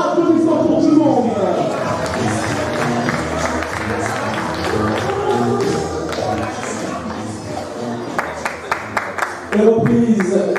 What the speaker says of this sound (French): applaudissements pour tout le monde